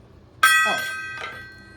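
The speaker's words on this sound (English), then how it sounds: "Oh, we forgot to gong." A gong is struck, ringing out with a bright metallic tone that slowly decays, then a second, softer stroke follows within about a second.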